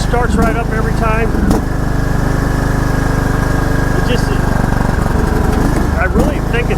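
A small lawn mower engine runs steadily and loudly close by, with a constant throbbing drone from start to finish and a few brief knocks and clatters on top.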